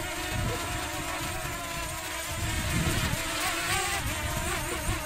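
A camera drone in flight gives a steady high-pitched insect-like buzz that drones on without pause, loud and close, with a faint low rumble beneath.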